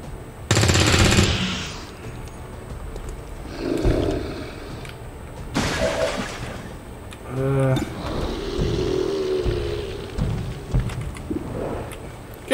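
Gunfire from the alien-combat video game XCOM 2: War of the Chosen, with a loud, sharp volley of shots up front, then further bursts, rattling impacts and a low roar through the rest of the clip.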